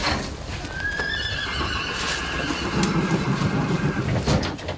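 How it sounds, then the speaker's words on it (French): Percheron and Norman cob draft horses pulling carriages give a clear whinny while hooves clip-clop steadily on pavement, with traffic noise in the background. "2 calèches et 4 chevaux de trait sont sollicités"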